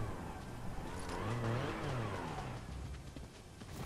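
Car engine in the Fortnite video game, a steady mid-range motor that swells and revs up near the middle before settling into a fainter drone, with no talk over it.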